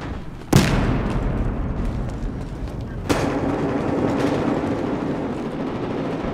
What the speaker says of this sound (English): Outgoing frag!